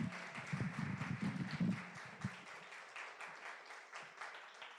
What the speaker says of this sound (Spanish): Un aplauso para esta mesa, un aplauso para todas ustedes.